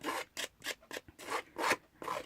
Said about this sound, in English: I'm just going to distress it really quickly, just with my scissors, running them down the edges like so